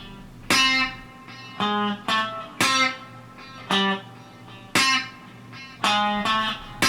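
Slow country guitar lick with chromatic notes on electric guitar, sounding as distinct plucked notes in small groups with brief gaps, each note ringing clearly and then decaying, close and fairly loud with no talking.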